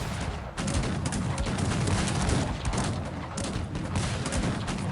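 Massed musket volleys from Cossacks 3 crackle in a dense, continuous barrage of overlapping shots, loud and close, as if many soldiers are firing together on a battlefield near Turin.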